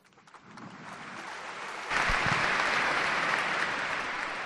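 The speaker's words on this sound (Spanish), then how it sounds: "las bóvedas de la catedral acaban de devolvernos ese aplauso" Applause in a cathedral, starting faint and swelling into dense, sustained clapping that rings and echoes under the stone vaults.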